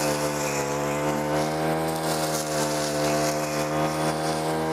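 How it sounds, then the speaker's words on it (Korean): A Honda gasoline brush cutter cuts through grass, its two-stroke engine holding a steady, loud, close drone with a strong harmonic whine throughout and no talking. "바로 이어서 휘발유를 넣어서 작동하는 혼다 예초기로도 제가 똑같이 작업을 한번 해볼게요"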